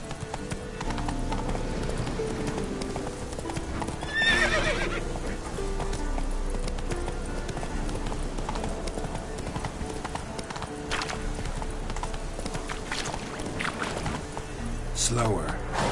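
Roach, a horse in The Witcher 3 video game, gallops with a steady rhythmic clip-clop of hooves and a whinny partway through, while someone talks over the sound.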